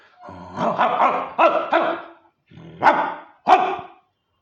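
A human voice imitates an angry dog barking, close and loud, in a fast run of four barks, a pause, then two sharp separate barks.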